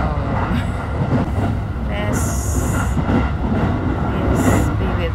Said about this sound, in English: I'm from Osaka going to Kyoto, riding in a train.